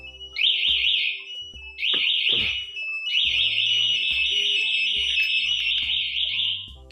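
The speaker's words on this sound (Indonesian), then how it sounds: "malah alarm berbunyi" Smart key alarm module on an older LED Honda Vario scooter chirping loudly in repeated warbling high-pitched bursts, two short blasts then a long continuous wail, with faint clicks and handling noise underneath.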